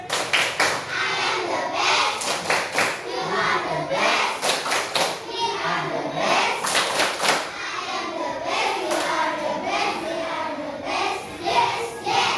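Schoolchildren in a third-grade classroom perform a rhythmic clapping chant together, bursts of clapping alternating with chanted children's voices, steady and fairly loud throughout.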